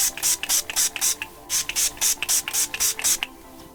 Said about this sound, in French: vous pchitez une fois à l'extérieur pour bien amorcer, pour éviter d'avoir parfois vous savez l'embout qui est un petit peu bouché